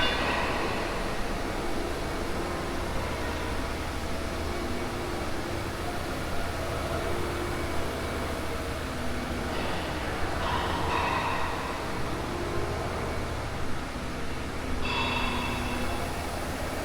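In a small workshop of heavy milling machines and laser cutting machines, a continuous loud mechanical roar and hum drones on without pause, with faint higher whines rising briefly, and nobody talking.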